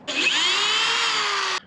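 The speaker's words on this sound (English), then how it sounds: "First, I start with a drill that is not 3/16, it's actually smaller, so I don't have to worry about hitting it on center very well." A small drill bit, under 3/16 inch, bores into a rivet head on a 1953 Kenworth Pacific bus, giving one steady, close, high-pitched whine that holds for about a second and a half and then cuts off.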